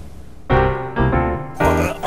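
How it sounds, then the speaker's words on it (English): A conscious adult choking makes a few short, strained gasping and retching sounds in quick bursts, close and fairly loud, with brief pauses between them. "That's the sound of choking."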